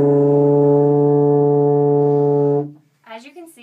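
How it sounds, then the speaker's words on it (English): A tuba holds a single steady, full-breath low note for over two seconds before it cuts off, then someone briefly speaks. "that was a pretty nice full sound on the tuba"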